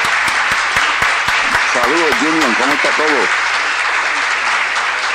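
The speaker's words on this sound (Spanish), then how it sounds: "Vamos a recibirlo con un aplauso." An audience at a live show applauds to welcome an honored guest, a steady wash of clapping throughout with a voice speaking over the middle.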